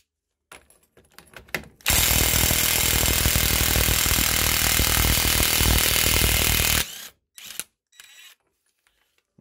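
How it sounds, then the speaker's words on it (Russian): A Ryobi R18IW3 cordless impact wrench loosening a hub nut in a single loud, continuous hammering burst of about five seconds, bracketed by short clicks and handling noises before and after. "Соответственно, включаю на гайковерте."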